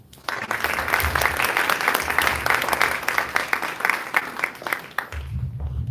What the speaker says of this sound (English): Let us give a warm welcome and warm round of applause for our governor,